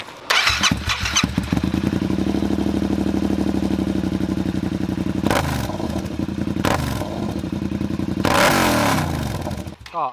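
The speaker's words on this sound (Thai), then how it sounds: "ไหนขอลองฟังเสียงท่อหน่อยเบิร์นักสามที" A Yamaha MT-07 parallel-twin CP2 engine starts and revs hard, its exhaust roaring loud and close with repeated throttle blips and a rattling, clattering idle between.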